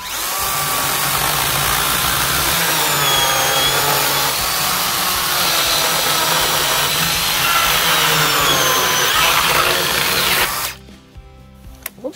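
A Makita cordless chainsaw, a DUC302 or DUC356, runs on 18650 batteries with a steady high-pitched whine for about ten seconds, then cuts off abruptly, leaving a few faint clicks.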